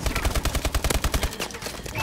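Rapid automatic gunfire in Call of Duty Advanced Warfare Havoc multiplayer, a fast, loud, even burst of about fifteen shots that then breaks off into scattered game noise.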